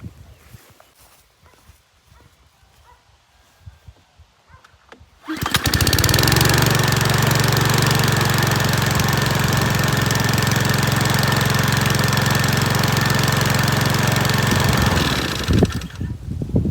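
A petrol lawn mower engine starts abruptly after a few seconds of quiet handling noises, then runs loud and steady at close range with a droning, buzzing tone before cutting off near the end.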